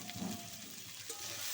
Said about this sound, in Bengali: আমি আরও কিছুক্ষণ ভেজে নেব। চিচিঙ্গাটা যতক্ষণ না লাল লাল হচ্ছে।